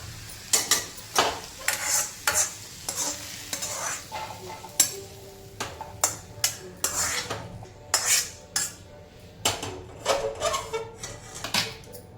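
Cooked flat-bean (ghevda) bhaji scooped from a hot pan onto a plate: repeated metal spoon scrapes and clinks against the pan in uneven bursts, with a faint sizzle underneath.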